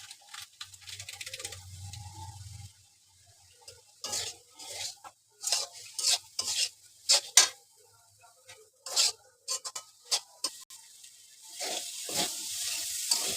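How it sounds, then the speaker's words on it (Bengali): Vegetables for a vegetable roll are stir-fried with soy sauce and spices, with soft sizzling beneath repeated sharp scrapes and clacks of a utensil against the pan, coming in irregular bursts up close. "এখন আমি দিয়ে দিব সয়া সস একটু, আর একটুখানি ম্যাজিক মশলা।"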